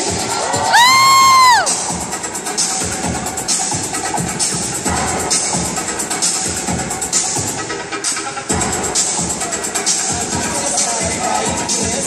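A crowd screams and cheers loudly at a Street Boys dance show at Universal Studios Singapore, a sustained roar of many voices with a whistle-like sweep near the start.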